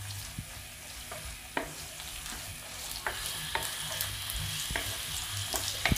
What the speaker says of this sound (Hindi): अब मैं इसमें स्लाइस हुए हुए चिकन जो है ये डाल दूँगी फ्राई होने के लिए अच्छी तरीके से।